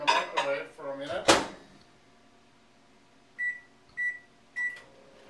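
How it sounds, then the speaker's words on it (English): A microwave oven used to melt butter: a few clattering dish and door knocks, then after a pause three short, evenly spaced electronic beeps, close and clear. "I'm going to put it in the microwave for a minute."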